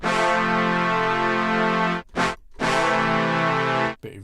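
A synthesized brass patch in Cubasis on iPad plays sustained chords, bright, buzzy and loud, with one short stab between two long held notes.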